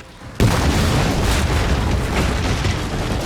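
Cannon fire pounding a fortress wall in the battle game Empire: Total War, a sudden heavy boom followed by a sustained rumbling roar of explosions and crumbling stone, loud and close.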